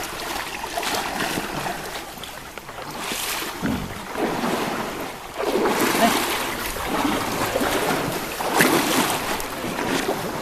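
Water splashes and churns with wind buffeting the microphone as an animal carries riders across a river in Chitwan jungle, southern Nepal; steady broadband wash with louder surges, fairly close.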